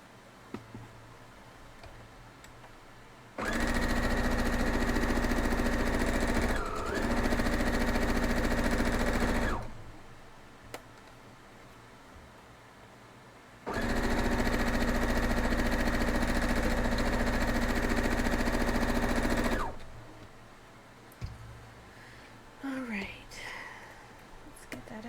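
Home sewing machine stitching a flock of geese quilt block, running in two long steady bursts of several seconds each with a brief pause and quiet gaps between, loud and close, followed by light handling noise.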